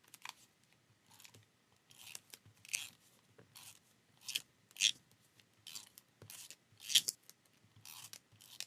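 A tape runner rolling adhesive onto paper in a planner, a series of short, light crackling strokes with brief pauses between them, close and quiet with no talking.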